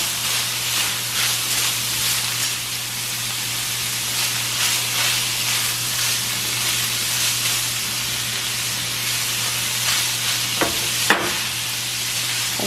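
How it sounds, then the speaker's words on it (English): Lasagna filling with onions sizzles and hisses steadily in a pan while a spoon stirs it, close and fairly loud, with a low hum underneath and a couple of sharp clicks near the end, without any talking. "I'm just going to mix everything together well."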